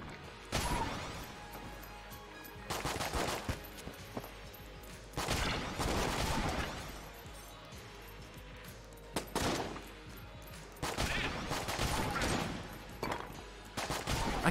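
Sawed-off shotgun blasting in Enter the Gungeon, loud sharp reports fired in quick bursts of two or three, separated by short pauses for reloading, with game music running underneath.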